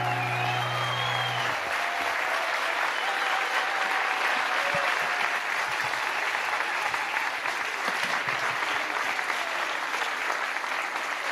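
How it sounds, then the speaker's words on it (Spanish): An audience at an economics gathering claps in sustained, dense applause for about eleven seconds, an even wash of many hands, with a brief tone at the start. "Fuerte el aplauso, Clone y su linaje"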